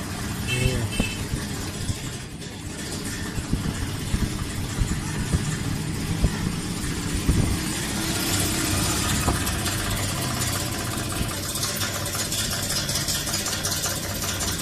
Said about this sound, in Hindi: अभी मैं करता हूँ इसके कंप्रेसर को ऑन